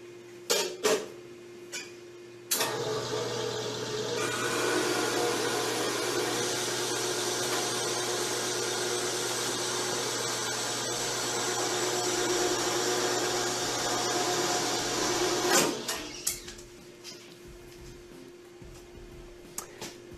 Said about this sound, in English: to cut it to length, we'll use a guillotine saw and clamp it in like so